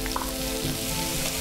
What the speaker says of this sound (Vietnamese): Cô nhớ phải chiên đến hai bên đều vàng hết.